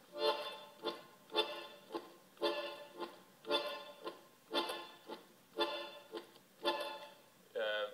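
Bandoneon playing a marcato in 4, short, sharp accented chords in a steady pulse, about seven detached hits with brief gaps, close and fairly quiet.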